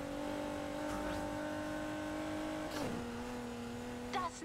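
Car engine in the Need for Speed Heat racing game, droning at a steady pitch and then shifting down to a lower tone, with a brief higher squeal toward the end at moderate volume.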